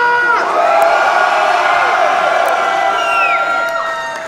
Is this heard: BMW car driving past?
no